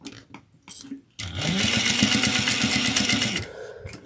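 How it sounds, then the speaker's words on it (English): A sewing machine stitches a stocking loop in one continuous burst of fast, even needle strokes lasting a couple of seconds, preceded by a few short clicks and handling noises. "let's bring this to the machine and sew it down at 1/8 of an inch"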